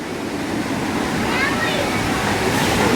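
Water pours steadily down a log flume ride at Six Flags St. Louis, a continuous broadband rushing like a small waterfall, close and unbroken, with voices faintly mixed in.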